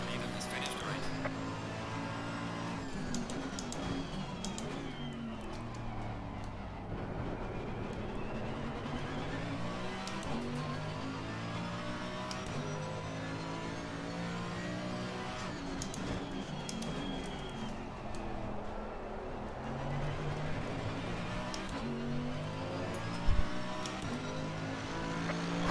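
A GT3 race car engine in a racing video game drones continuously, its pitch rising and falling through gear changes across the lap. The sound is steady and fairly quiet, and a voice talks over it.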